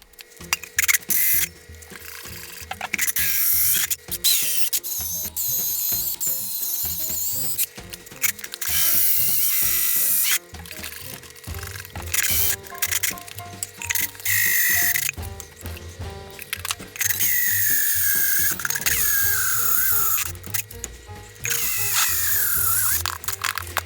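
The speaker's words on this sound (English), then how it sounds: "it's time for me to start drilling this hole" Loud, intermittent bursts of a drill grinding and whirring, starting and stopping repeatedly with mechanical rattling between runs.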